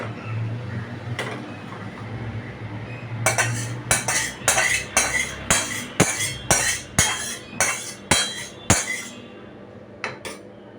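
Cooked dhoka, lentil-cake curry, tipped from a pot into a serving dish, heard as a run of about ten regular scraping clinks of a spoon against metal, fairly close and alone.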